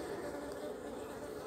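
A steady buzz of bees in Trinidad hums continuously at close range, low and even, with no voices over it.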